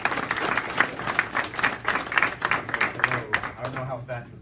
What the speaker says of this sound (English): Please give a round of applause to Anthony.